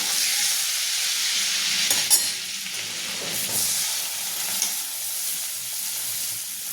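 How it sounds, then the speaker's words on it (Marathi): Onion sizzles and crackles in hot oil in a pan for pav bhaji, a loud, close, steady frying hiss with a few stirring scrapes and no talk. "आता पहिले कांदा टाकून घ्यायचा"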